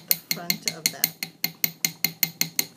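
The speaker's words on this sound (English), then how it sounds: "with our hammer and anvil is tap the front of that" Rapid, evenly spaced metallic taps ring out close by, about a dozen sharp strikes of a hammer flattening wire on an anvil to make earring hooks.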